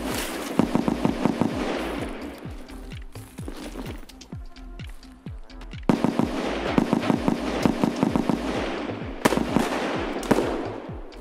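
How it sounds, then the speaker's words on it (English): Gunfire in the tactical shooter Escape from Tarkov: rapid bursts of sharp, loud shots crackle in fast, uneven volleys through the whole stretch, with a brief lull in the middle before the firing picks back up. "he's shooting from behind."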